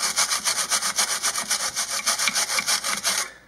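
A brush scrubs rapidly back and forth to clear silicone from between PCM contacts, a close, raspy rhythmic scrubbing about six strokes per second, with no voices, stopping abruptly at the end.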